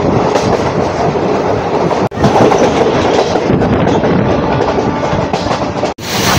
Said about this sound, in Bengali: এটা কিন্তু demo train, diesel electric multiple unit Agartala Karimganj demo.